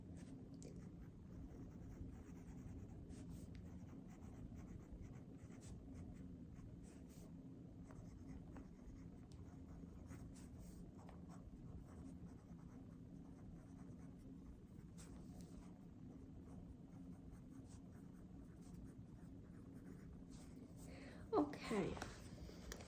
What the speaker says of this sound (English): Please bear with me as I write down all of these notes manually.